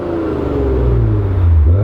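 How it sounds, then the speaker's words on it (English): A Maserati Levante GranSport with a twin-turbo V6 in sport mode gives a loud, close exhaust note: a deep, steady bassy drone with a rising and falling burble that carries on without a break and has no talk over it. "When you put it in sport mode, you can hear the exhaust liven up a little bit."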